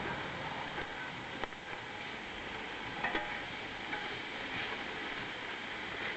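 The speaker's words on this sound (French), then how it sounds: "je vais déjà bien cuire ma viande" Meat frying in a pan for jambalaya, a steady soft sizzle with faint scattered clicks and scrapes of stirring, quiet and continuous throughout.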